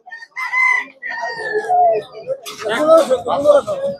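Roosters and hens at a busy village chicken market cluck and call in strained, bursting tones close by, layered under a man's ongoing conversation about prices.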